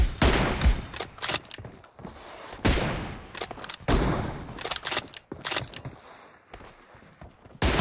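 Bursts of gunfire in PUBG Mobile, sharp close shots fired in quick volleys with short pauses between them and a few faint metallic clinks, with no one talking.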